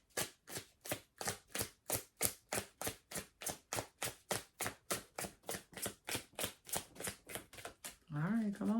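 Tarot cards are shuffled in a brisk, regular run of about twenty crisp slaps close to the listener, followed by a person starting to talk.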